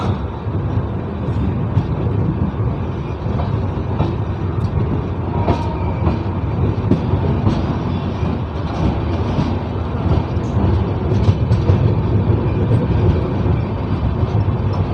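Kota-Patna Express pulling out of Nihalgarh railway station, a heavy steady rumble with rhythmic wheel clatter over the rails, loud and close, rolling continuously without speech.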